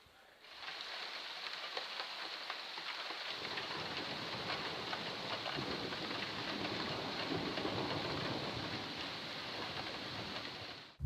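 A thunderstorm over the Somme in northern France in August brings dense, steady rain with a broad roar that swells in as if from a strike and holds loud and continuous for about ten seconds.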